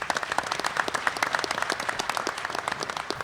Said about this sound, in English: Please give a round of applause for Kenny Saylor